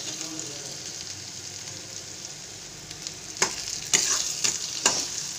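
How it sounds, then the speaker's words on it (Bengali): Garlic and onion fry in oil on the stove for a green banana and chickpea mash, giving a steady close sizzle broken by three sharp scraping stirs near the end, with no talking. "দেখুন মোটামুটি ভাজা হয়ে গেছে"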